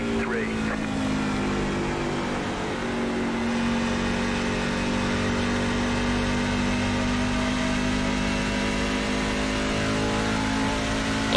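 NASCAR Truck Series racing trucks roar around Nashville Superspeedway in iRacing, a steady, sustained engine drone with pack noise from several trucks close together, constant and loud throughout.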